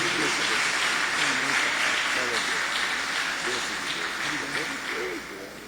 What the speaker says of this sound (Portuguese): dá outra salva de palmas e um aleluia